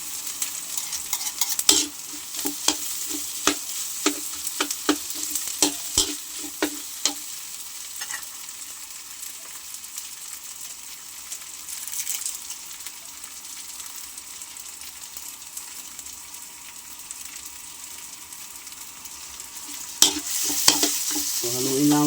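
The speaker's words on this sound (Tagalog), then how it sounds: "So, haluin lamang po yan ganyan." Pork humba is stirred in a frying pan, with a string of sharp utensil scrapes and knocks over a soft, steady sizzle that fades to a quiet simmer before a few more scrapes near the end.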